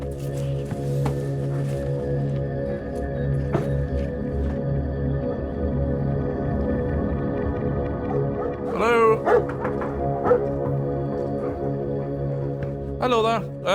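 Dogs bark and yip at a boarding kennel unit, a few sharp barks rising near the end over a droning hum, with people talking throughout.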